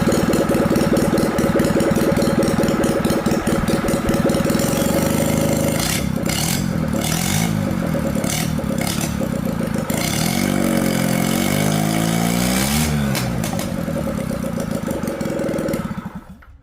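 A small golf cart engine runs steadily on a test dyno nearby, idling then revving up and down in waves before cutting off at the end.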